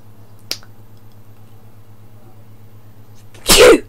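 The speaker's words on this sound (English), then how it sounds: "I'm gonna sneeze." A person with a bad cold lets out one loud, close sneeze near the end, preceded by a sharp click and near silence.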